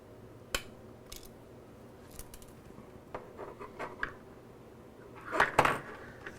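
Scissors snip and cut through parts on a workbench during an Auduino synth build with a 3D-printed enclosure, giving scattered light clicks and a brief louder burst of snipping near the end, with no talking.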